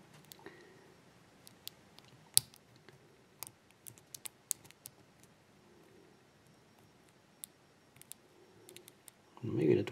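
A lock pick works inside a padlock (a WCP Mul-T lock challenge padlock), giving many faint, scattered metallic clicks and ticks of varying strength, with a louder scraping rustle at the end.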